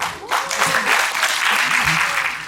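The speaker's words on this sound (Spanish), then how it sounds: "Damos la bienvenida a César Curí con un fuerte voto de aplausos." Audience applause fills a Bolivian lecture hall on forest fires to welcome a speaker, steady dense clapping that starts abruptly after a brief quiet moment and holds loud throughout.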